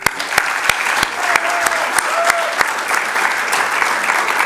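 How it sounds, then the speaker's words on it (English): Conference audience applauding steadily for a small for-profit business CEO at a leadership panel, dense sustained clapping with a few sharp claps standing out near the front. "apparently brought his own cheering section"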